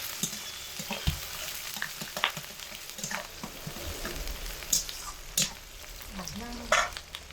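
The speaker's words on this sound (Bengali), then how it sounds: "এবার এগুলোকে একটু নেড়ে দেব।" Chopped onion and green chilli frying with whole cumin, stirred in a pan: a steady close sizzle broken by scraping stirs and clinks throughout, with no talking.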